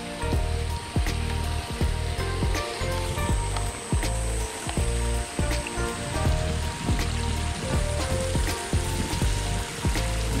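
Rain falls on a rice field in a rural hamlet, a dense, close patter of drops that stays loud and steady throughout, with no voices.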